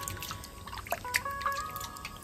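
Water drips and trickles as fish is rinsed at home before frying, with faint, irregular drops and thin splashes and no talking.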